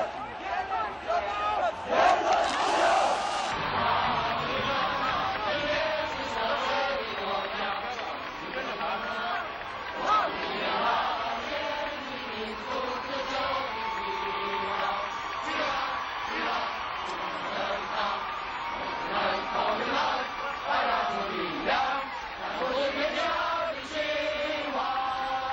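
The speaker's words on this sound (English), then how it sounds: "Tens of thousands of students responded by crowding the streets, singing, chanting, cheering, and creating a jubilant noise that was deafening." A huge crowd of students packs the streets, chanting, cheering and singing together in a loud, dense, sustained roar with rising shouts throughout.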